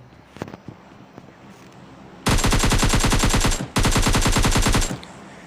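Automatic gunfire in PUBG Mobile Lite: two long rapid bursts of loud machine-gun shots, close and dense, after a few quieter thuds.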